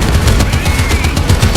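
Rapid gunfire from a tank battle in a video game, with a Sherman tank on a Japanese-themed map, sounds as a dense, continuous stream of close, loud shots with no break.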